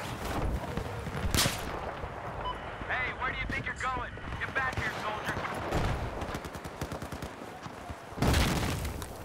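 Mortar blasts and gunfire in the shooter game Battlefield 4, during a team deathmatch on Operation Mortar: booming impacts at the start and near the end, with a steady, busy stream of shots and battle noise between them, all under a player's talk.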